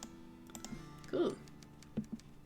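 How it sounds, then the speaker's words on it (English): Soft keyboard typing from a Nancy Drew mystery computer game: a few light, scattered key clicks, faint and brief, with a muffled thump in the middle. "Sound of typing."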